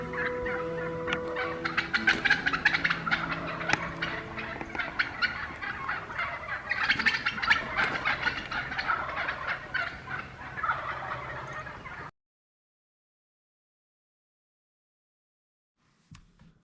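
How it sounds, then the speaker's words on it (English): Wild turkey gobblers and hens gobble repeatedly in bursts, overlapping rattling calls at close to moderate distance, continuing for about twelve seconds before falling silent, with a faint sound near the end. "there's a bunch of gobblers with a bunch of hens"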